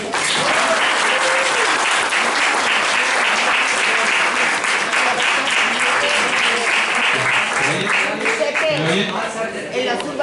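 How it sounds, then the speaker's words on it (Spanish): Audience at a Spanish-language science talk applauds to welcome a microbiology speaker from the University of Valencia, with steady, dense clapping filling about ten seconds and some crowd voices mixed in. "un aplauso"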